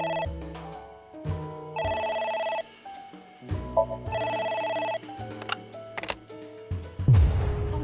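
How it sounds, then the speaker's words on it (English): A telephone rings in the video game AI: The Somnium Files, repeated electronic ring bursts with brief gaps amid game interface ticks and tones, then a low thud near the end. "A phone. Should I pick it up?"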